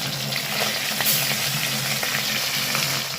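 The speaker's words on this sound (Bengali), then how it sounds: "তেলটা পুরোপুরি গরম হয়ে গেছে মাখাতে মাখাতে এবার মাছগুলোকে আমি ভেজে নেব" Large pomfret fish frying in fully heated oil, a steady close crackling sizzle with small pops and spits throughout.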